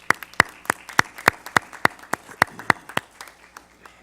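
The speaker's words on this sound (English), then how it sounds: "Give me a round of applause." Applause at a school board of education meeting honoring an award recipient, heard as a thin, sparse scattering of distinct claps from a small audience, steady through the first few seconds and then tapering off.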